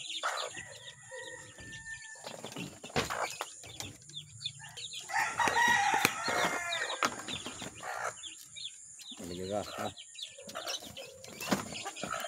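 A hen and her hungry chicks in a backyard coop, with high thin chirps and peeping alongside clucks and some wing flapping, shifting busily and fairly close throughout.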